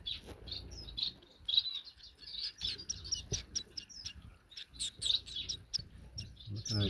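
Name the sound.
finch chirping in an aviary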